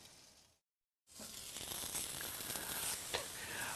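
A thick tomahawk steak sizzles loudly on a barbecue grill, a steady close hiss that starts, cuts out for a moment, then resumes at full strength with faint crackles.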